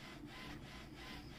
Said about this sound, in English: the printer has started to print something automatically before I could send a signal